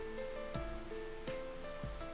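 Rain in a video game, a soft continuous patter of drops under a faint hum, with low swooping tones sliding down about three times at regular intervals.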